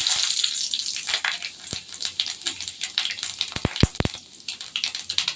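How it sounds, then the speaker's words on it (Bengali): Panch phoron and dry red chillies dropped into hot oil for a Bengali chorchori, a bright crackling sizzle with a few sharp pops and spluttering bursts near the end, no talking. "তেলটা আবার কিন্তু গরম হয়ে গেছে আমি এখন ফোড়নে একটু পাঁচ ফোড়ন আর একটু শুকনো লঙ্কা দিয়ে দেবো"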